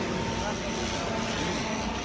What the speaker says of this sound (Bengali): এই জায়গা দিয়ে বিমানগুলো যায়,